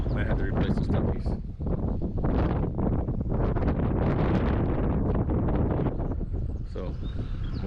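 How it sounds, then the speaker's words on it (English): Strong wind buffets the microphone in loud, gusty roaring bursts beside a CAT excavator, nearly constant throughout with brief dips between gusts. "it's just way too windy up here"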